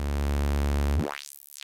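Analog Eurorack multimode filter on a Frap Tools CUNSA module: a steady buzzy tone that abruptly sweeps, the filter opening and closing into a swooping, whistling arc before fading, loud and alone.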